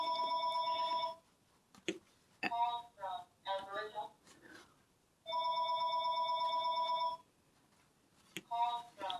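A telephone on a home line rings in two long electronic bursts with a pause between them, while someone talks nearby in the gaps and over the end.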